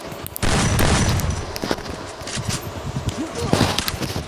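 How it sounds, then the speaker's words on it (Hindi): Gunfire rattles in the mobile battle game Free Fire, with bursts of sharp shots and scattered single cracks over a busy in-game background, while a player talks over the action. "मेरे को लगता है ये लोग मेरे पे देख के गोली चला रहे हैं"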